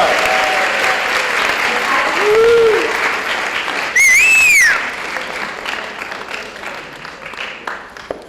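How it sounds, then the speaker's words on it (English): An audience at a 2023 class graduation gives a round of applause, a loud sustained wash of clapping with a few whistles and cheers rising midway, then thinning and tapering off near the end. "Let's give them another round of applause"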